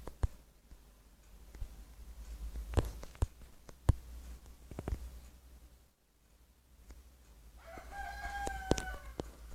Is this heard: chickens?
yes